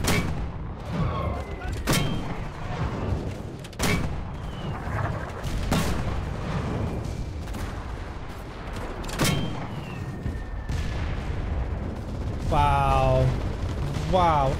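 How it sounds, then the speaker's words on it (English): Mortar rounds fire in Enlisted, a steady series of sharp booming launches spaced every couple of seconds, with voices talking between the blasts and a brief electronic chime near the end. "we are holding them back with the mortar"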